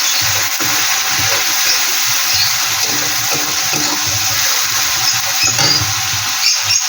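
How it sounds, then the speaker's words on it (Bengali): Onion paste frying in a pan for a chela fish curry, a steady close hiss and sizzle with soft crackles running throughout, no talking. "পেঁয়াজটা দিয়ে আমি হালকা করে একটু ভেজে নেব।"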